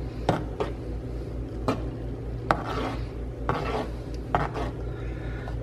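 Spicy black bean quinoa brown rice soup being mixed in a pot, with a spoon scraping and clinking against the pot in irregular strokes over a steady low hum.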